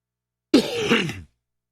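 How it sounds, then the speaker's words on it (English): One rough, close throat clearing from allergies, a harsh cough-like rasp lasting under a second, with silence around it. "I'm sorry for all this coughing and everything like that."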